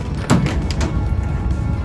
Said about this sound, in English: And then we can open the door here.